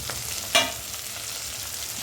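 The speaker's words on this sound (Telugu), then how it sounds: "వేగుతున్నాయి కదండి" Boiled peas and peanuts frying in a hot pan for veg pulao, a steady soft sizzle with one brief sharper crackle near the start.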